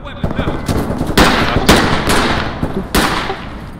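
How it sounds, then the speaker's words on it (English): Several sharp gunshots crack out during a police tactical operation, spaced irregularly amid busy background activity, with faint voices underneath. "Bravo Alpha, shots fired."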